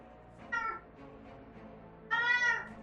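A domestic cat gives two meows, the second longer and louder, heard up close indoors over a faint steady background hum.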